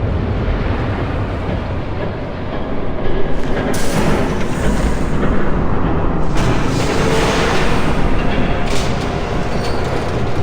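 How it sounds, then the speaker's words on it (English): A train approaches in a Batman video game as a loud, dense rumbling roar that swells and stays heavy for the whole stretch, with no talk over it. "There's a train coming."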